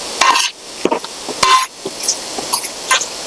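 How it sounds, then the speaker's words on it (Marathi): Cluster beans being stirred into frying masala in a pan for a dhaba-style gavar fry: irregular scraping strokes of a spoon against the pan with clinks and soft sizzling, close and lively, in short bursts. "ही गवारी आपल्याला याच्यामध्ये टाकून झाल्यानंतर आपल्याला या मसाल्यामध्ये छान मिक्स करून घ्यायचे"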